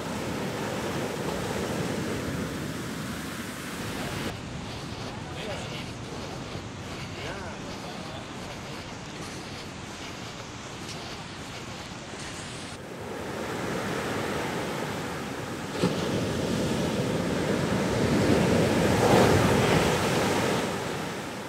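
Ocean waves breaking continuously on a beach, a broad rushing surf with wind noise on the microphone, swelling louder toward the end.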